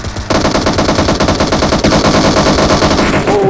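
Rapid automatic gunfire from a battle royale video game rattles in a loud, sustained burst of closely spaced shots after a brief quiet start, with no talking.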